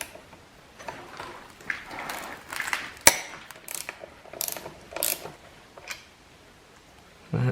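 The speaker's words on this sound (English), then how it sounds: "to get that removed, we just got the bolt that goes through from the outside with a nut on the inside of the skid" Bolt and nut being removed from an Arctic Cat ProCross snowmobile skid: quiet ratcheting clicks and metallic taps come in short uneven bursts, close by, with one sharper clank midway and no talk.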